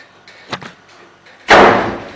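A door handled indoors: a soft knock and short clatter as it is worked, then a loud, sharp slam as it shuts, the bang decaying over the final half second.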